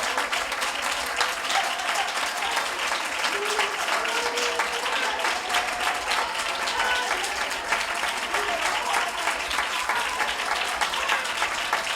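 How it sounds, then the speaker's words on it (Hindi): A church congregation applauding loudly during a prayer service, a dense, even roar of many hands clapping that holds steady for the whole stretch, close and full with no speech on top. "जोरदार ताली बजाकर हम परमेश्वर को धन्यवाद करें"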